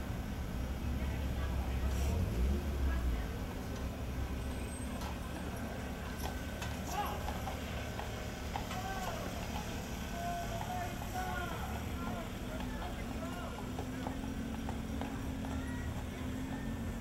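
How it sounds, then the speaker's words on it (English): Hooves of a horse pulling a buggy clip-clop steadily, faint and somewhat distant under a constant broad background hiss and rumble throughout. "Horse and buggy guy."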